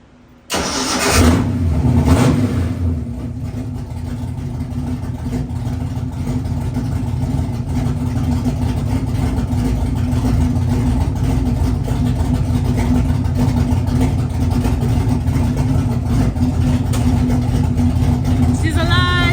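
A car engine cranks and catches, then settles into a steady, loud idle that runs on continuously, with a voice speaking briefly near the start.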